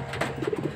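A pet Bluebar pigeon coos softly in a short, close run of low, throaty pulses with no one talking.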